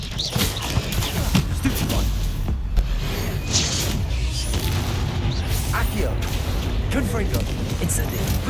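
Magical blasting-spell explosions from Hogwarts Legacy, a series of dull booms and crashes among chaotic combat effects and battle noise, with voices calling out during the fight.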